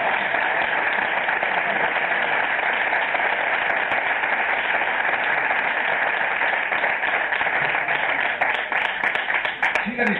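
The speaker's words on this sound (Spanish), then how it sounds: "Dale un aplauso a su gracia." A church congregation applauds with a continuous, fairly loud wash of clapping that holds steady for about ten seconds, with a few sharper claps standing out near the end.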